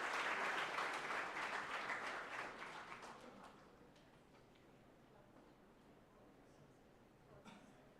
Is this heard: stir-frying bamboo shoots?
no